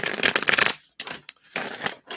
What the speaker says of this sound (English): I'm just going to shuffle these up.